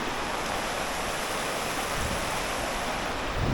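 Rushing water from a swollen creek during Hurricane Hilary in California, a steady, loud broadband roar filling the whole moment with no voices.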